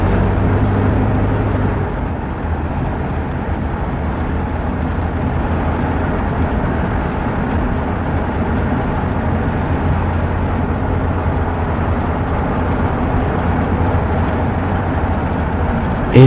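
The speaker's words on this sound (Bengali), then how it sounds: "সঙ্গে সঙ্গে আমি জোরে গাড়ি চালাতে শুরু করে দেই" A car drives fast, a loud, steady engine drone and road rumble that carries on unbroken for a long stretch with no speech.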